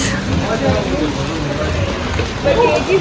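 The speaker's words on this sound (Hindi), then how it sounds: "और यहाँ हो चुकी है बारिश काफ़ी तेज़" Heavy rain pours steadily in Dharamshala, Himachal Pradesh, a dense, loud hiss of drops on surfaces that holds nearly constant throughout, with no clear talk on top.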